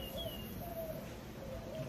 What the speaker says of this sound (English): You can hear the little birds chirping.